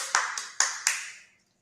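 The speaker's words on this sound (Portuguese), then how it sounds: "Muito bem, palmas para vocês." Four sharp, ringing claps spaced evenly about a quarter second apart, each with a bright decaying tail, close and fairly quiet, during an online children's music class, then silence.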